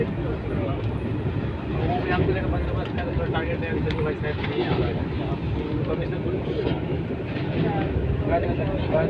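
Heard from an upper berth inside a night train bound for Lucknow, the train rumbles along the rails in a steady, continuous roar that fills the whole stretch without a break.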